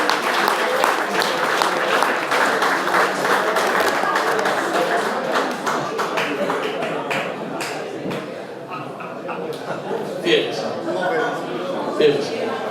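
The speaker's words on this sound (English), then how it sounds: "Give him a nice round of applause." Audience applause at a rugby league club sponsors' night, steady dense clapping from a room full of people, fairly close and loud, easing slightly in the middle before continuing.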